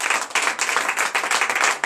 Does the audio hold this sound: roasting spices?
no